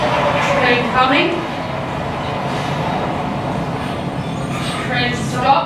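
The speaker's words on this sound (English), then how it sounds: "The train will be very noisy." A loud train rolls past close by, a continuous dense rumble with rattling texture throughout, and faint voices talking beneath it near the start and end.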